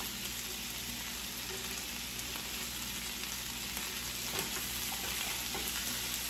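Zucchini pieces fry in a hot pan with a steady, even sizzle and crackle, quiet and unbroken for several seconds with no talking.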